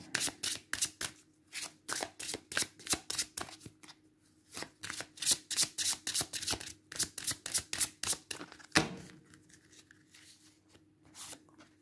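Tarot and Lenormand cards shuffled by hand, a quick run of crisp riffling bursts in rhythmic groups with short pauses between them, close and fairly quiet, no voice.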